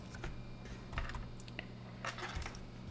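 Keyboard typing on a computer while editing notes, scattered soft clicks in short irregular bursts, close but very quiet.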